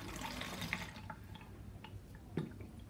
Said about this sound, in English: Pour some of the water into the Pregasol.